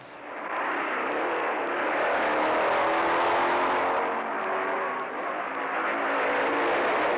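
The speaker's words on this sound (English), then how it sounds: "There goes Eakins on his Triumph 3050" A Triumph motorcycle races past at the 1957 Catalina Grand Prix, its engine swelling into a sustained, fairly loud roar that holds for several seconds before easing slightly and rising again.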